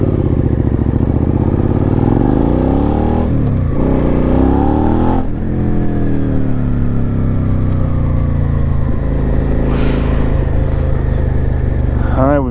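A Suzuki SV650 motorcycle engine revs loudly and close up on an early morning ride, its pitch climbing and falling in repeated swells over continuous wind and road noise.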